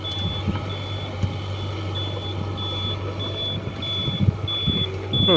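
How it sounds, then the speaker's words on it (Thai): A Yanmar mini excavator sounds a steady series of high, evenly spaced reversing beeps over a low, constant engine hum. "มีเสียงถอยด้วยนะ"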